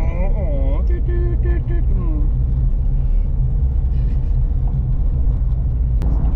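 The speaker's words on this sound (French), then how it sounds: "Maintenant, on roule sur une route en béton" A car drives along a concrete road in rural Rio Grande do Sul, Brazil, with a steady low tire and engine rumble throughout while someone talks over it.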